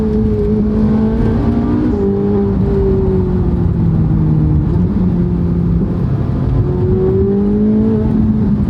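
A Ferrari 458 Italia's naturally aspirated V8 revs loud and close, its pitch climbing and dipping through several rises and gear changes with a steady, continuous drone and no talking.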